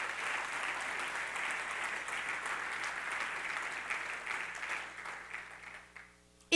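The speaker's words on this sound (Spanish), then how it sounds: "Dele fuerte el aplauso al Señor." A church congregation applauds during a Spanish-language Christian service, a steady wash of many hands clapping at moderate distance that holds evenly and then thins out and fades near the end.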